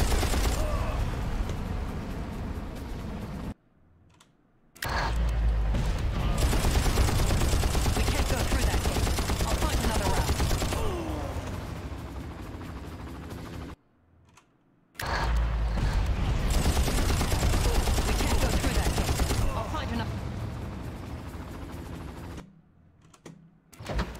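Machine gun fire from an enemy gunner in the Far Cry video game, long dense bursts of rapid shots broken by two brief silent pauses, loud and close with a voice mixed in.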